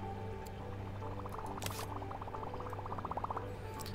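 Water pours into an aquarium tank in the Megaquarium management game, a steady gurgling fill with a run of rhythmic bubbly pulses late on, over a constant low game-music hum.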